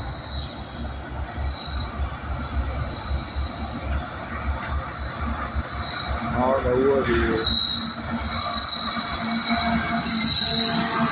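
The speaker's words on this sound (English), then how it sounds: "Five-pound coal train." A loaded coal train rolls downhill under dynamic braking through Abbeville, South Carolina, its wheels squealing in a steady high whine over a rumbling, clattering undertone that grows louder toward the end, while a person talks nearby.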